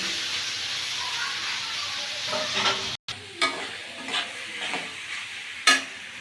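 Fried vegetables being stirred into frying rice in a pan: a bright hissing sizzle with repeated spatula scrapes and a sharp clatter near the end, briefly cut to silence midway.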